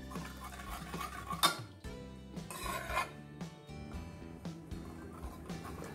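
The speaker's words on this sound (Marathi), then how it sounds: "याला आपल्याला आता पहिले थोडस घोटून घ्यायचंय।" Cooked whole masoor lentils are mashed in a pot with a utensil, giving repeated soft scraping and rubbing strokes with occasional metallic clinks against the pot, and no talking.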